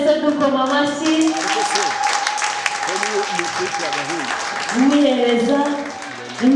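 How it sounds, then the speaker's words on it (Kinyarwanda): Students in a church gathering clap together in a continuous rhythmic patter while voices sing or call loudly over the applause. "Abanyeshuri mwese dukoma amashyi."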